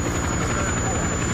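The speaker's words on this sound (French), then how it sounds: "faites partir cet hélicoptère tout de suite" A helicopter hovers nearby, its rotor thumping loudly and steadily with a constant engine whine throughout.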